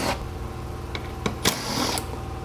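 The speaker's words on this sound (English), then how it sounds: "We have 2 10mm screws, one on the top, one on the bottom," Two 10mm screws come out of a tail light assembly on a 2013 Chrysler Town and Country: a few sharp metallic clicks and a brief whirring tool burst sound close by in a quiet setting.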